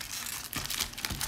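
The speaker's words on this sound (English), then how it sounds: "So we're gonna shuffle these packs up a little bit, make it kind of random for everybody." Foil Magic: The Gathering Zendikar Rising booster packs are shuffled by hand, giving a close, steady crinkling and rustling with a few sharper crackles and no talking.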